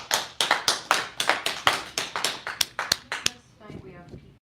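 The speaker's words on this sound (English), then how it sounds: "The golf clap." A small audience gives a slow, sparse golf clap in a courtroom setting: a dozen or so distinct, evenly spaced claps, fairly close, thinning into a few scattered taps before stopping.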